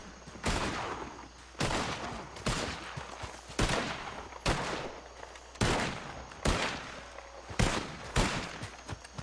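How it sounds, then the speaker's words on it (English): Loud gunshots crack out one after another at a steady pace during a Red Dead Redemption 2 western shootout, about ten sharp reports with brief echoing tails. "And now suddenly people are shooting at each other."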